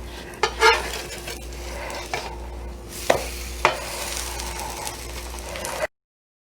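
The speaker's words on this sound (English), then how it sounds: "While my French toast is busy cooking on that side" French toast sizzles in a frying pan with a soft, steady hiss, broken by a few sharp clinks and scrapes of a utensil against the pan, close by and with no talking.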